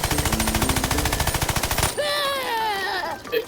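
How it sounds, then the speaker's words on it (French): Rapid Uzi fire in the Worms Battlegrounds video game, a steady rattling burst of evenly spaced shots lasting about two seconds, followed by whistling, sliding game effects. "Là on découvre un Uzi, première arme à feu qu'on va avoir dans le jeu."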